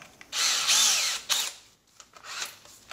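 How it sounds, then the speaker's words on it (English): A power drill with a 5/8-inch swage bit whirs close by in a long burst, then a shorter one, followed by quieter intermittent spinning, while swaging copper line during an evaporator coil and condenser changeout. "Got our drill and our 5/8 swage bit,"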